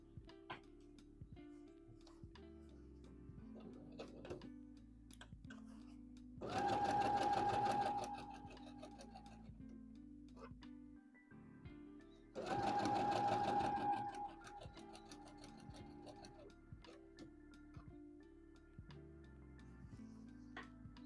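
A home sewing machine stitches a side seam of a McCall's M8141 misses' dress in two loud, steady bursts of a few seconds each, with quieter handling of fabric and faint ticking between them.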